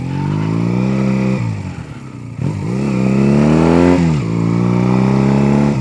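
A Honda Rebel bobber motorcycle with wrapped exhaust and no baffles idles loudly up close, its engine note rising and falling through several revs.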